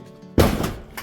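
A foot kicks the bottom edge of a siding panel on an off-grid house build, landing as one loud, close thunk with a short rattle and ringing tail, then a softer knock.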